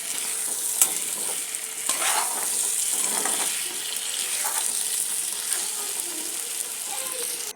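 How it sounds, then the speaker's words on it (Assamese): Potatoes and chopped tomatoes are stirred in a frying pan, a steady sizzle broken by repeated scraping and clinking of the spoon against the pan. "এতিয়া কাটি ৰখা বিলাহীখিনি ইয়াত দি দিছোঁ। এইখিনিও ধুনীয়াকৈ লৰাই ল'ম।"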